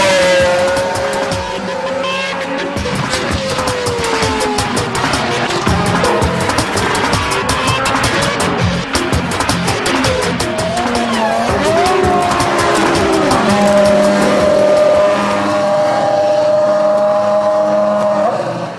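A Jordan Formula One race car runs for its first time, a loud, continuous high-revving engine with gear-shift pitch swings and squealing, up close throughout the full stretch.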